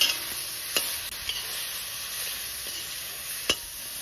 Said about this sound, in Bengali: তাৰপিছত এতিয়া তেল নিদিয়াকৈ এখন কেৰাহীত ভাজি লৈছোঁ।